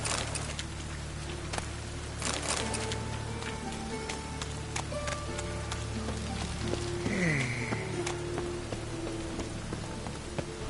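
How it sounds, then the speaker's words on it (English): Steady rain patters on the ground in The Witcher 3, a constant dense hiss with a few scattered thuds and a short tonal sweep partway through, heard alone without talk. "Looks like rain."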